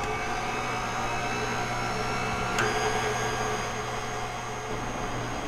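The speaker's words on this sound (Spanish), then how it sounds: "Estamos batiendo las claras a punto de merengue." An electric mixer whips egg whites to meringue, a steady continuous whir with a low motor hum, starting at low speed, held close and alone, with one brief click partway through.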